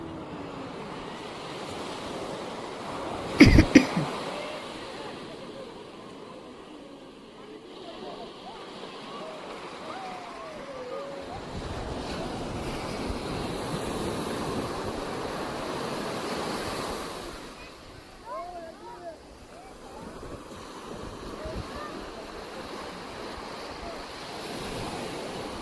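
Sea waves washing onto a beach at Malvan, a low continuous surf wash that swells and recedes in the background, with a sharp knock near the start and people speaking over it at times.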